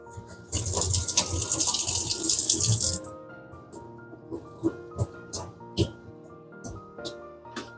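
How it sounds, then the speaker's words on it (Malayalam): Water gushes through indoor plant pots in a loud steady stream for a couple of seconds, then stops and gives way to a series of distinct drips and trickles, close by. "അതിലെല്ലാം നന്നായിട്ട് വെള്ളം വാർന്നിങ്ങനെ പൊക്കോളും"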